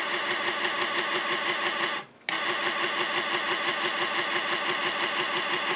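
Built-in dot-matrix printer of an Epson HX-20 portable computer under repair, buzzing loudly in rapid rhythmic print strokes, briefly stopping for a moment before resuming with the same mechanical chatter.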